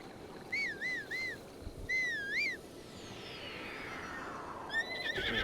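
A horse whinnies in the video game Breath of the Wild, several short wavering neighs at moderate loudness over a soft outdoor ambience, with a sweeping whoosh in the middle.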